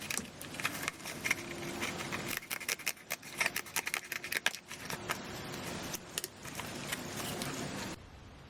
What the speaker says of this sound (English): open your moss sheet and trim it to size so that it fits on the back piece of cardboard